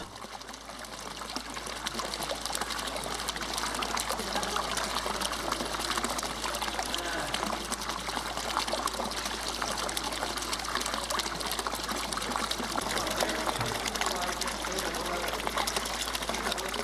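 Steady trickle and pour of water during ritual ablution (wudu) as the face and hands are washed, a continuous faint splashing stream running throughout at moderate distance.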